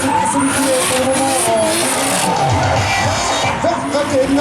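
A BMW M3 E30 with a turbocharged 2.5-litre six-cylinder drifts at a rally show, engine wailing and shifting pitch while tires squeal and skid continuously, loud and close with crowd noise underneath.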